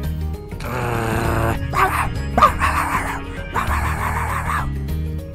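A cartoon devil dog whimpers and yips in a ranch setting, several close, loud, whiny cries in bursts with short gaps between them, heard alone.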